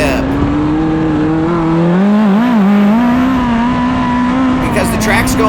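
Race car at a speedway driving over a large track curb, a loud sustained engine drone whose pitch dips and wobbles as the car rides the curb, with voices over the engine.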